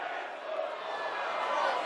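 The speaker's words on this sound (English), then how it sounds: "It's the Rovers fans cheering on their defence that you can hear." Rugby league crowd of Rovers fans cheering on their defence at an away match against Batley Bulldogs, a steady, broad roar of voices held at even loudness throughout.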